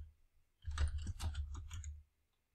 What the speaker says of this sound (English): So you can search for locations by clicking and typing.